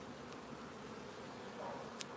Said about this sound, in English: Look at the bees, they're nice bees. Look at this wasp now though.